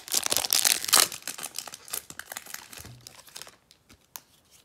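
Crinkly plastic foil wrapper of a 1992 NFL Pro Set hobby card pack crumpling and tearing open up close, a loud burst of crackling at first that thins into scattered softer rustles, with no voices.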